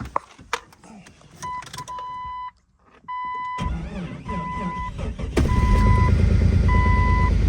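A Jeep Cherokee XJ with about 300,000 miles is cold-started after earlier hard starting: several chimes and beeps sound first, a short crank follows, and the engine catches into a loud, steady idle that holds to the end.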